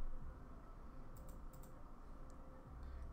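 Keystrokes on a computer keyboard click faintly in short bursts over a steady low room hum, a few sharper taps standing out near the middle.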